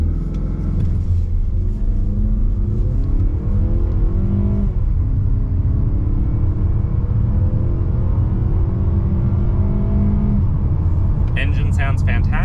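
A 2023 Mazda CX-50 Premium Plus accelerates hard from a standstill to 60 mph, its engine droning loudly inside the cabin and climbing in pitch with audible gear shifts, heavy road rumble beneath it, and a voice speaking over it.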